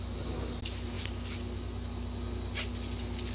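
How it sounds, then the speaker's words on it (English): Adhesive tape is pulled and pressed onto a foam-core loaner sword blade being surface-taped, giving brief crisp rips and crackles over a steady low hum. "I'm putting on the top layer of tape"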